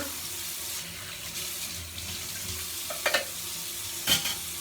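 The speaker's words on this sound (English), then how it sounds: "also going to use this opportunity to clean the knife I used to cut the butter." Tap water runs steadily into a sink as a butter knife is washed, a continuous close rushing with a couple of brief clinks and splashes near the end, no talk.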